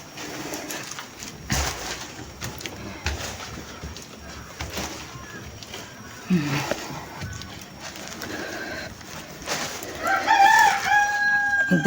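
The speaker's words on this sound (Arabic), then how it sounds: "الداك بيأذن مستنينا نطلع له، عايزنا نطلع له" A rooster crows near a stairwell while chickens cluck and shuffle nearby, with a few soft voices and footstep noises mixed in.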